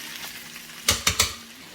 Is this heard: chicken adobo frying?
yes